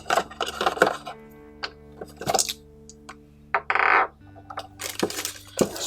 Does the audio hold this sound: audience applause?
no